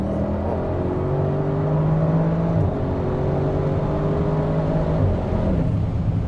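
An Audi RS engine pulls hard under kickdown, a steady loud drone that holds and rises through one gear before a shift drops the pitch and it climbs again, with no talking over it.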